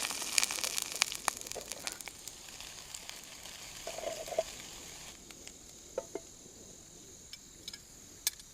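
Crab cakes frying in a pan on a backpacking stove give off a faint, steady sizzle with scattered soft pops and crackles, heard alone without talk.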